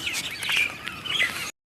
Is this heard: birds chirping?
yes